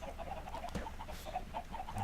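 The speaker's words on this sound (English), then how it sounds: "Beautiful chickens doing their little chickeny thing." Soft chicken clucks from a video game repeat at a steady pace against a constant low background hum, with no talking.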